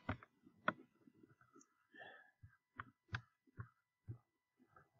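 Computer mouse clicks while drawing a shape in Photoshop, a series of sharp, isolated close clicks spaced irregularly over a quiet background.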